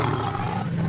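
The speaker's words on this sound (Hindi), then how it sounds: "तभी उनको शेर के दहाड़ सुनाई दी।" A cartoon lion's roar, a sustained, dense, rumbling growl that fills the whole brief moment at steady loudness with no voices.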